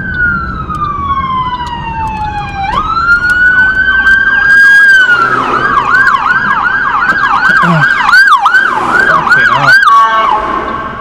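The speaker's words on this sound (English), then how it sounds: "Ambulances." Loud ambulance sirens wail nearby, one sweeping tone joined by a rapid yelping siren, overlapping for several seconds before easing off.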